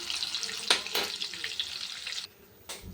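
Chicken chaap frying in butter and ghee in a pan, a steady close sizzle with a few sharp spatters and stirring scrapes, briefly dropping off near the end before resuming.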